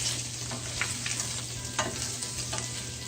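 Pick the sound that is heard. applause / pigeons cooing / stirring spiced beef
stirring spiced beef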